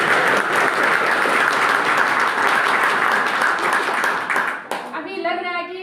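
An audience breaks into loud, dense applause that holds steady for several seconds, then fades abruptly as a voice begins speaking at the end.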